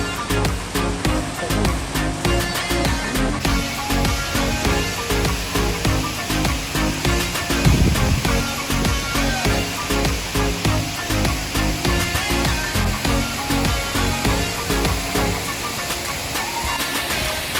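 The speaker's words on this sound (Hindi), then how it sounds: "Look at this beautiful waterfall," Kataldhar waterfall roaring as a dense, continuous broadband rush of falling water, loud and steady throughout, heard up close.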